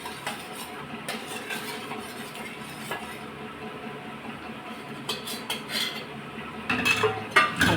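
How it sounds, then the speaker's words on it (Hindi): Gram flour batter being whisked by hand in a bowl for a potato-onion masala curry, a steady scraping clatter of utensil against the bowl that quickens and grows louder toward the end, with no talking. "ये बेसन हमने इसमें डाल दिया है, और इसे अच्छी तरह हम फेंट लेंगे, घुमा देंगे"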